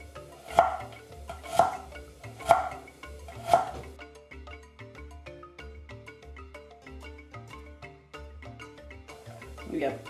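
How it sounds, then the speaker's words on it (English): A knife chops a carrot into strips on a board, with four distinct loud chops followed by quicker, lighter cuts, and a voice speaking faintly underneath. "carrot chopped very nicely"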